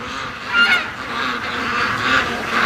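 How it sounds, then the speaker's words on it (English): Canada geese honking as they fly in over a lake, a steady chorus of calls with a louder burst near the start, mixed with wind noise outdoors. "I saw a bunch of Canada geese fly in on the lake"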